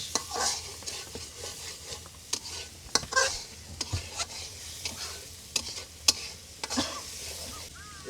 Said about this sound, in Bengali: গলদা এবং খুসুল মাছ কষানো চলছে